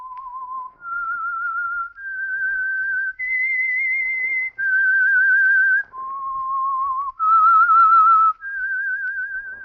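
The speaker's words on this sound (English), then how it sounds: "That whistle is your signal for the Signal Oil Program, The Whistler." A lone person whistles the theme signal of The Whistler radio program, a clear, slightly wavering melody of about eight sustained notes that steps up and down, close and loud with no other sound.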